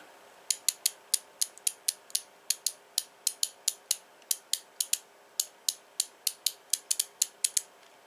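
A ratchet screwdriver with a 72-tooth head clicks in quick bursts of crisp, close metallic ticks, many evenly spaced clicks repeating in short runs against a quiet background.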